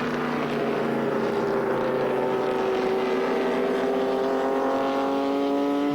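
A Corvette race car with a big American engine roars in a sustained, tonal drone that shifts slowly in pitch during an endurance race, loud and steady throughout.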